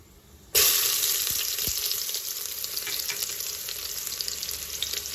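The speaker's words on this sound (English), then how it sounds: "Add the onions and we will fry them well." Onions hit hot oil with bay leaves and whole garam masala for bhagara rice and burst into a loud, steady sizzle. It starts abruptly after a moment of quiet and carries on close and strong, with a few faint stirring knocks.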